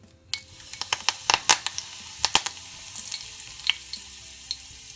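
Mustard seeds and curry leaves crackle in hot oil, sharp popping bursts clustering in the first few seconds and then thinning out over a low continuous sizzle, close and crisp.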